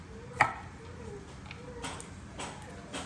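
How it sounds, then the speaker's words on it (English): A knife trims the ends off a zucchini on a cutting board, giving a few faint, sparse taps and clicks in a quiet kitchen. "Okay, so I've got my zucchini here. I'm gonna cut off the ends"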